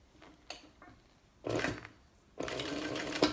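A sewing machine stitches down the edges of a small fabric wallet in two short close bursts of rapid mechanical whirring, preceded by a few light knocks and handling sounds.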